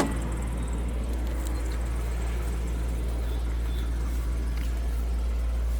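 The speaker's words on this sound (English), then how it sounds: "let you hear it running out through the drive" A 2004 Land Rover Discovery 2 drives along with its engine running, a steady, loud low rumble and broadband road and cabin noise holding constant throughout, with no talking.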